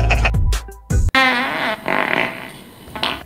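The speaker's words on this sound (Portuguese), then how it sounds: "um peido aqui vai tudo pelos ares." A loud, close fart sound effect plays in a survival game, with a wet sputtering burst, a sharp pop and a long trailing, wobbling rasp that fades out.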